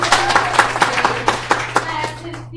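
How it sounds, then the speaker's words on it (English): A live audience claps at a comedy podcast show, a loose burst of hand claps close by with a steady low hum underneath, the clapping thinning out toward the end. "Then the audience claps."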